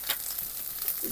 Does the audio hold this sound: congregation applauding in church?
no